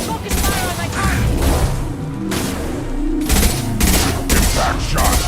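A Mass Effect 2 combat exchange: dense, loud bursts of automatic gunfire and thudding impacts come close together without a break, and voices shout beneath the shooting.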